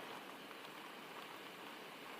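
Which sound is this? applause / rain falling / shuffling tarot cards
rain falling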